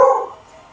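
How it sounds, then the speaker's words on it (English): A single short dog bark from beagles outside, loud at onset and decaying quickly, heard alone. "there go the beagles"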